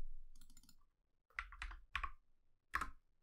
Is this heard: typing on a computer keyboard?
yes